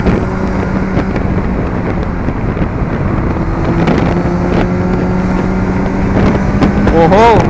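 A Kawasaki Z900 motorcycle engine drones steadily on a night ride with loud wind rush. Near the end the revs climb in short, rising blips as the rider downshifts, and a voice talks over the engine noise.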